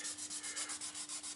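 A 3D print is sanded by hand with 1200 grit sandpaper, giving a quiet, close, rhythmic rubbing with about a dozen even back-and-forth strokes in just over a second.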